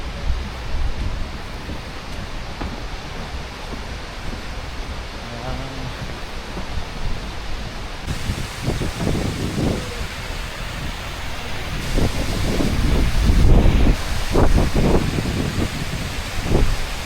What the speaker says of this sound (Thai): น้ำตกใจกลางเมืองเลยเนาะนี่โอ้โคตรงาม